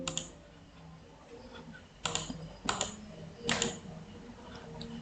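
Keystrokes on a computer keyboard while working in an Excel spreadsheet: sparse quiet taps, then three louder clustered bursts of clicks near the middle and later, close by with no talking.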